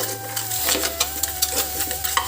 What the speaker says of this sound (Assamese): আৰু এতিয়া ইয়াত মই পিঁয়াজখিনি দি দিম। লৰাই দিম।